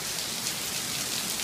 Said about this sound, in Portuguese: Você sabia que ia chover?